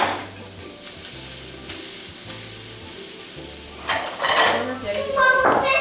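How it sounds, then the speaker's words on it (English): Bacon fries in a pan alongside hash browns with a steady crackling sizzle, and louder scraping and clatter of cookware come in near the end. "Oh, I gotta flip that bacon too."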